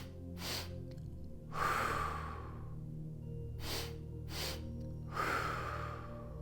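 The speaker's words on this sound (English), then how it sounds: "As soon as you notice that, double inhale." A person does a double-inhale breathing exercise, two sharp sniffing intakes through the nose, each pair followed by a longer audible exhale, repeated twice, close and fairly quiet, with no talking.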